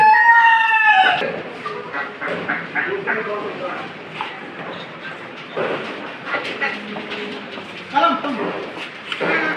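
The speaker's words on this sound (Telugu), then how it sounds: "ఇవన్నీ కోళ్ళే. చూడు మంచి కోడి చూడు." Chickens cluck and a rooster crows amid a busy live poultry market in Dubai, with people talking nearby and scattered clatter in the background.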